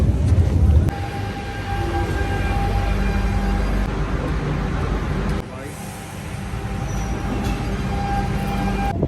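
Constant low rumble of a Lisbon metro train in motion heard from inside a carriage, with faint tonal whines and a brief shift in the noise partway through.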